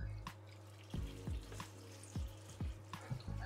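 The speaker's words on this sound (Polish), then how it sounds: "Wylewamy wodę" Water splashing and dribbling into a dish of baking beans, several irregular splashes and drips over a low steady hum, fairly close and moderately loud.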